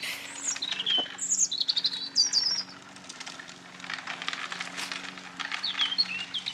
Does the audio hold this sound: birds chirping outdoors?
yes